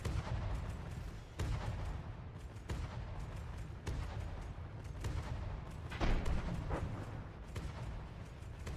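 Heavy artillery and particle cannons firing in the From the Depths vehicle combat game, a dense rumbling barrage of repeated booms and blasts with several sharp louder impacts, continuous and close with no talk.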